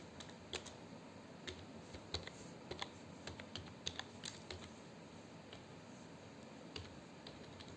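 Code is typed on a computer keyboard in quiet, irregular bursts of crisp close key clicks with brief pauses between runs.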